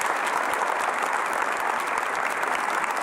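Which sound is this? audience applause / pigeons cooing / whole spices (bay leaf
audience applause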